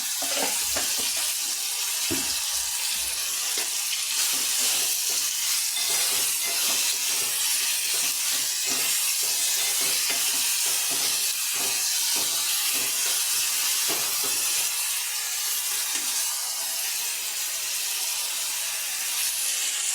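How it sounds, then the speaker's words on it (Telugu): Chopped onions with a little salt fry in a pan for Telangana-style mutton curry, giving a steady, loud hiss and sizzle with scattered crackles throughout, and no voices. "ఉల్లిపాయలు కొద్దిగా బ్రౌన్గా రావాలండి కలరు, కాబట్టి ఇది వేగాలి."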